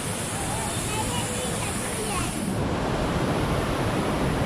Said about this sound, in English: Small little waterfall right there.